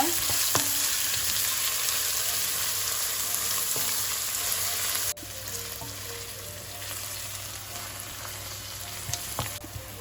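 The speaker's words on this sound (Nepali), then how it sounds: "अब यसलाई रातो हुने गरीसम्म भुट्नुपर्छ" Two large finely chopped onions frying in a pan, a dense continuous sizzle with occasional stirring clicks, close and loud throughout.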